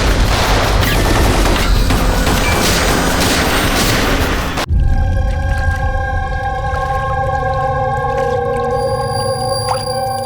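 Gunfire in a CID crime-drama shootout: a dense, loud burst of rapid shots and blasts for about four and a half seconds, then an abrupt cut to a steady droning, tonal passage.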